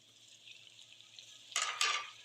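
Golden onions sizzle softly in a pan for fried rice before cabbage and capsicum go in, setting off two loud bursts of crackling stir-fry sizzle near the end, with no talking.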